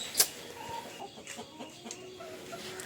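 Two geese and a duck call in short, scattered honks and quacks, fairly faint and close, with no one talking.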